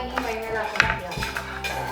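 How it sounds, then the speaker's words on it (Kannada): A ladle stirs semolina in a cooking pot, metal scraping and clinking against the sides in quick irregular strokes, close and fairly loud. "ನೀನು ಸ್ವಲ್ಪ ಅಲ್ಲಿ ಆ ಸೌಟ್ ಇಟ್ಕೊಂಡು ಕೈ ಆಡ್ಸಲ್ಲಿ"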